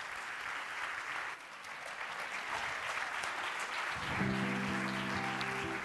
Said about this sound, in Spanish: Pues ese aplauso para Alexander.